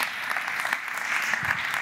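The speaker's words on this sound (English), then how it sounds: "Big round of applause for Lissa." Audience applause at a brand summit, steady clapping from a crowd that fills the whole stretch at moderate volume, with no talk over it.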